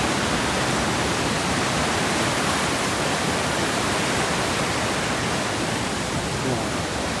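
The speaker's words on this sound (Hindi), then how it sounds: "ये है मोरखंडा नदी" The Morkhanda river in the Himalaya rushes in a dense, loud, continuous roar of flowing water that fills the whole scene without a break.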